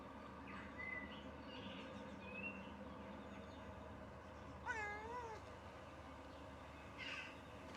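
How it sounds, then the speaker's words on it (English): A cat in the video game Pentiment meows once, a clear rising-and-falling cry, over a faint background murmur with a few soft chirps. "Come here. Look. Look at the kitty."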